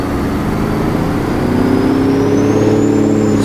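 A heavy truck engine with an Eaton Fuller 18-speed transmission drones steadily up close, its low rumble climbing in pitch as it revs higher, with no voices.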